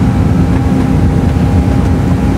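Twin motorboat engines drone steadily while the boat cruises near Kronstadt, a loud continuous low rumble with a faint tonal whine on top and no break or talk.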